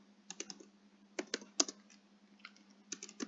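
Keystrokes on a computer keyboard as C code is entered, coming in quick clustered bursts of crisp clicks with short pauses, fairly faint over a low steady hum.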